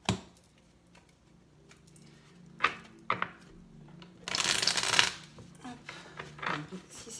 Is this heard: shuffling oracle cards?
yes